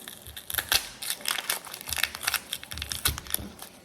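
An onion peeled by hand while making pepper steak, dry papery skin crinkling and tearing in quick irregular bursts, close and fairly quiet, with no talking.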